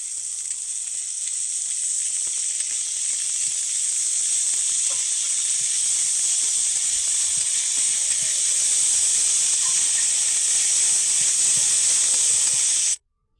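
Potatoes frying in a pan with ginger, garlic and cumin paste give a loud, steady sizzle and hiss that runs nearly unbroken for about thirteen seconds, then cuts off abruptly.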